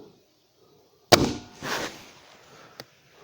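A single sharp crack of a Hatsan Striker Edge air rifle shot, loud and close, followed by a brief rustle and a faint click after quiet.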